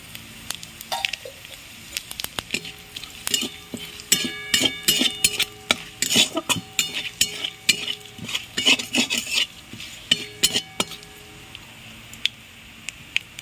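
Bay leaf, dry red chilli and whole cumin temper in a little oil in a pan, with a light sizzle under irregular clinks and scrapes of a spoon stirring against the metal, close and busy.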